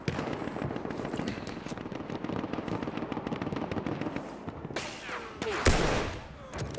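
Rapid gunfire crackles in a Battlefield 1 match, a dense stream of sharp shots with bigger blasts near the end, loud and continuous.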